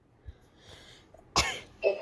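A single sharp cough bursts out near the mic, followed a moment later by a shorter throat sound, with quiet room noise around them.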